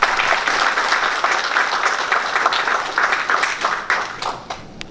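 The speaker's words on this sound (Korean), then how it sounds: "우리 박수 한번 크게 보내주시죠." Loud applause from an audience at an event, many hands clapping densely and steadily for several seconds before tapering off toward the end, with no talk over it.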